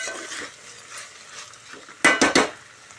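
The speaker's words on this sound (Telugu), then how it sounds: "రెండు మూడు సార్లు బాగా కలుపుకోవాలి మంచిగా ఉడికించుకుంటూ" A spoon stirs cluster beans in a pan with a soft sizzle, then scrapes and clanks against the metal three times in quick succession.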